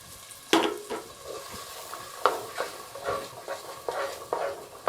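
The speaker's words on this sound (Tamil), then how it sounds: "இப்போ நம்ம இந்த அரைச்சதெல்லாம் ஊற்றிடலாம்" Ground paste for peas biryani hits a hot pan and sizzles, with a sharp initial splash followed by irregular bursts of stirring and frying crackle, close and clear, with no talk.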